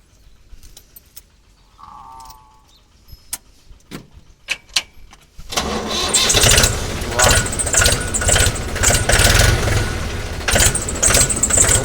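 A tractor engine cranks up after a few scattered clicks and clanks, then catches and runs in a loud, rough, throbbing idle close by, with a voice speaking briefly near the start.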